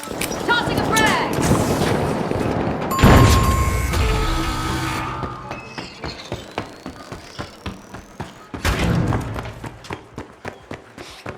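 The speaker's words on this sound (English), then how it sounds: "Tossing a frag!" In the shooter game The Finals, a frag grenade goes off with a loud, deep blast, then a second boom follows, mixed with scattered gunfire and a steady patter of running footsteps.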